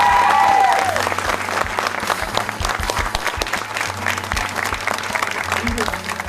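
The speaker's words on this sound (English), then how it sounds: "Let's give them another round of applause." Sustained crowd applause at a school community event, steady and loud clapping from many hands filling the whole stretch, with a low rhythmic thumping beneath and a brief high tone near the start.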